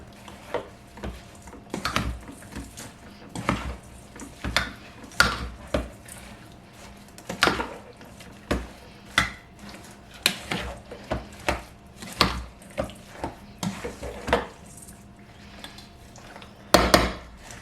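A spoon works through ambrosia salad with sour cream in a bowl, giving irregular clinks and scrapes against the bowl, close and moderately loud, with no talk.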